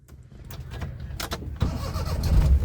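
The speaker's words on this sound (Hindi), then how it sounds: "गाड़ी स्टार्ट हुई, न्यूट्रल है, एसी बंद है ना" A Maruti 800 small hatchback cranks and fires up, its engine catching with a low rumble that swells louder toward the end, close by with no talk.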